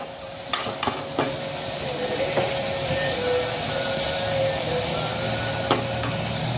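Salted vegetable curry being stirred in a hot pan for a packed lunch, a steady low sizzle with a few sharp scraping clicks from the spoon, close and alone with no talk.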